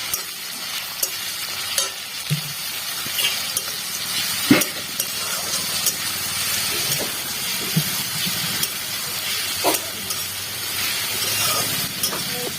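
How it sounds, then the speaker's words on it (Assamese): Garlic and onions fry in a pan with a continuous loud sizzle and hiss. Repeated utensil scrapes and clacks come from stirring, and one sharp knock stands out partway through. Close-up, with no voices. "আৰু এইখিনি অকণমান সময় ভাজি লম।"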